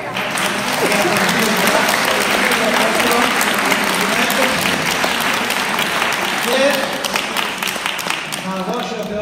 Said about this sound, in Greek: Λοιπόν, ένα θερμό χειροκρότημα.